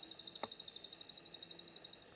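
A small bird sings a fast, steady trill of high repeated chirps, fairly close, with one brief lower call partway through and quiet surroundings.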